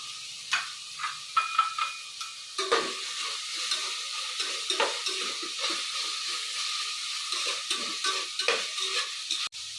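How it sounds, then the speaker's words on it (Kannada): Beetroot frying in a pan for beetroot biryani while being stirred, a steady sizzle broken by repeated scraping strokes of the spoon at an uneven rhythm, close and clear with no talking. "ಈಗ ಬೀಟ್ರೋಟ್ ಹಾಕ್ತಾ ಇದ್ದೀನಿ"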